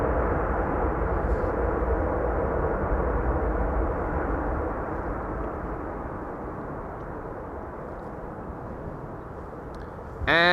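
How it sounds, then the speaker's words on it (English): A Boeing 747 arriving from Miami roars along the runway at Amsterdam Schiphol Airport on a sunny day. The loud, steady, broadband rumble eases slightly partway through and carries on with no talk. "we are going to see the 747 arriving from Miami here on this runway"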